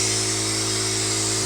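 Limodot quiet air compressor running while it fills, giving a loud, steady motor hum with a constant high-pitched whine and no talk over it.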